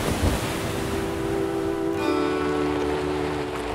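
Ocean waves and wind on the coast of Iceland in winter: a steady, loud wash of surf and gusting air buffeting the microphone, with a faint humming tone running through the roar.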